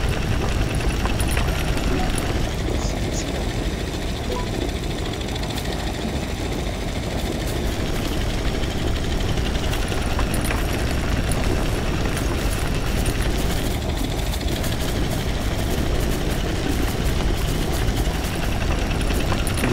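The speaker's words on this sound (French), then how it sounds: "C'est bien, on a un moteur V8 à l'arrière." A V8 engine on a vehicle in the space game Astroneer drones in a loud, continuous rough rumble, steady for the whole stretch, with faint rises and a few brief crackles and no clear talking.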